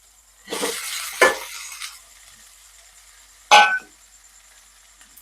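Potatoes drop into hot spiced oil in a pan, two or three loud bursts of sizzling and stirring clatter separated by quieter stretches of faint frying.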